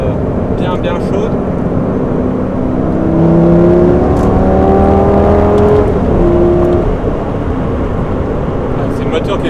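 A Lamborghini Gallardo Superleggera on a circuit, not yet fully warmed up, its engine accelerating with rising tonal whine and a swell in the middle, loud and close, with a person talking over it.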